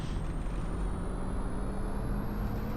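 An electric Mercedes-Benz eCitaro city bus in Berlin gives off a steady, airy whoosh of air brake, an even continuous hiss heard from inside with no talking.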